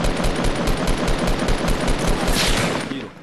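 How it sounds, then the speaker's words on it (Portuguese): Rapid automatic gunfire rattles in fast bursts in Fortnite, loud and close, then fades out near the end. "Tiro, tiro."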